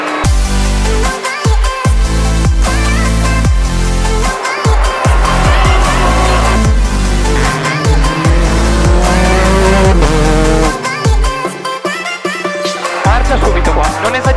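A rally car accelerates hard and brakes sharply over and over, the engine roaring and dropping with squealing tires. Loud and close throughout, with a voice calling out now and then.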